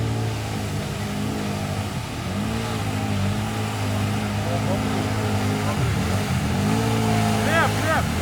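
Sharmax 1000cc ATV engine labouring over dirt, a steady mid-pitched drone that shifts and revs throughout, with shouted voices in the background.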